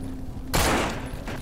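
A single loud gunshot blast goes off midway in the zombie survival game No More Room In Hell, sharp and broadband with a decaying tail, over quiet game ambience.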